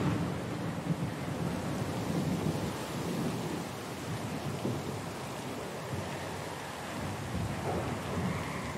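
Storm at sea in the fantasy video game Pillars of Eternity 2, with steady heavy rain hissing on surfaces and low rolling thunder rumbling throughout, moderately loud and continuous.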